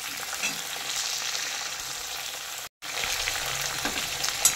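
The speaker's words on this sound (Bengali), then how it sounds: "জিরে ফোড়ন দিয়ে এটা কি বলে শিম আর আলু দিয়ে দিয়েছি। এবার এটা একটু ভাজা ভাজা করছি।" Broad beans and potatoes fry in oil with cumin seeds, a close, steady sizzle with faint stirring scrapes, broken by a brief silent gap before the crackle resumes.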